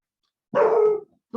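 A pet dog gives a single sharp, loud bark indoors, followed by the start of a second short bark, with no talking over it.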